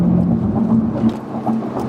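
A big-engined, track-focused Chevrolet Camaro drives along with a steady mid-pitched engine hum and a faint whirring layer. The sound is continuous and close, with nobody speaking.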